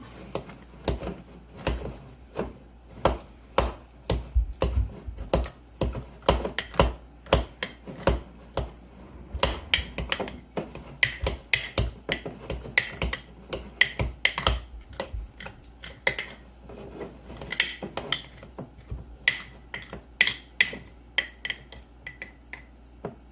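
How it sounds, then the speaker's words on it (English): A spoon stirs and scrapes thick sourdough dough around the sides of a bowl, giving a steady run of sharp clicks and knocks, close and fairly loud, with no talking. "I just get the spoon in there, scrape it down the sides, pick it up into the middle until this is all good and mixed up"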